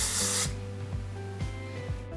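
Dove Extra Hold hairspray sprays onto hair in one close, loud hissing burst, followed by quieter rustling and faint handling sounds.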